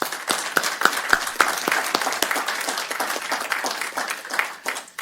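A room full of people gives a round of applause at a Board of Supervisors meeting, steady dense clapping throughout with a few sharp individual claps standing out near the front.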